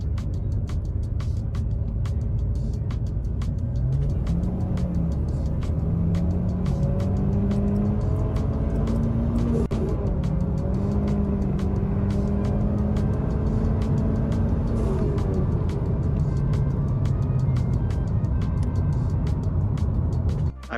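The engine of a Mitsubishi Evo X runs rough inside the car, a loud, continuous drone whose pitch rises and falls through several revs, with faint clicks over it.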